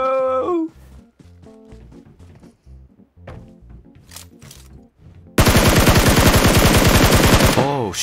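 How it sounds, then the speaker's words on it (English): Sustained automatic gunfire in PUBG Mobile erupts in the second half, a loud rapid rattle of shots following quieter game sounds and brief tones, close and dense, with a voice talking earlier. "Gun sound."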